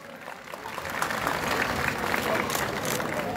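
A crowd at the opening of the 20th traditional Tekirdağ highland festival applauds a teacher, an outdoor wash of clapping that swells after a moment and holds steady, with murmuring voices underneath.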